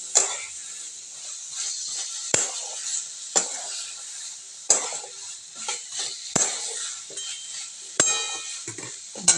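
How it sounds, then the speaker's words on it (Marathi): Peas and potatoes coated in masala are stirred in a pan with a spoon, giving a steady scraping and sizzling broken by sharp metallic clinks of the spoon against the pan about every two seconds, close and alone without talk. "या प्रकारे आपण सर्व मिश्रण एकत्र करून घेऊया."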